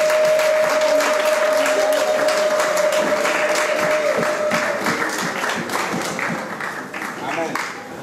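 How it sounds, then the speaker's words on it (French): A church congregation applauds and cheers for the children, a dense, steady wall of clapping that fills the whole stretch, loud at first and easing slightly toward the end, with a sustained tone running beneath it early on. "Est-ce qu'on pouvait acclamer les enfants?"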